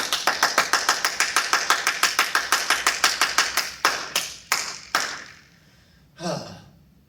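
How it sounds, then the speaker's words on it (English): A single person clapping in a classroom, about twenty quick, evenly spaced claps that slow and stop, followed by a short breathy exhale. "Round of applause for her."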